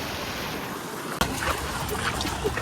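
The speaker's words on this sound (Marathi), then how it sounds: "परत पाऊस चालू झालाय." Rain falling steadily during a monsoon downpour in Vasai with floodwater on the ground, a dense continuous hiss that sharpens after a brief dip and stays fairly loud, with no talking.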